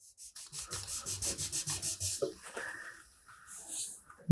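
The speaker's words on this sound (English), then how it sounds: "We'll just sand this until there's no" Hand sanding of fresh paint on a motorcycle fuel tank: about a dozen steady, even rasping strokes back and forth at close range, then the rubbing stops and only quiet handling noises remain.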